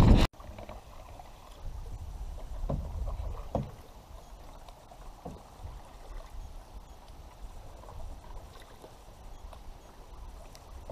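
A boat being paddled on a lake during a camping trip, soft watery paddle strokes and swishes against light wind noise, fairly close with no talking.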